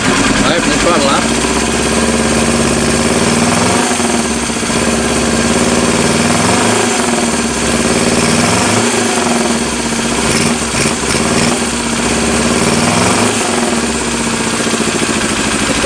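An engine on LIVC-controlled idle runs loudly and close as the throttle opens, a continuous rough mechanical drone with slow pulsing swells, while a voice talks over it.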